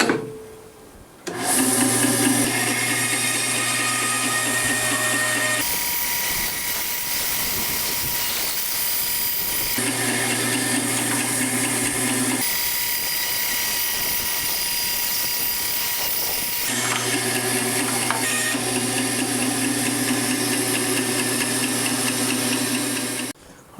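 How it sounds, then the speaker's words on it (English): Bandsaw cutting out a wooden lure body, a loud continuous motor whine and hum with the blade's buzz rising and easing as the cut progresses through several passes. "I'm going to cut this out in the bandsaw"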